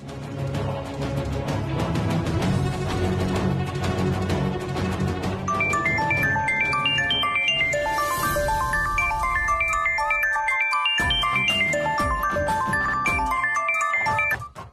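A melodic phone ringtone plays loudly and repeatedly, its bright electronic tune looping before cutting off at the end.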